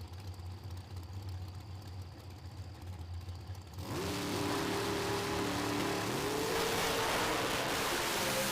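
Shannon Roberts' 2010 Race Tech drag car making a pass at a PDRA night race, a low idle suddenly bursting into a loud, sustained roaring engine with rising pitch.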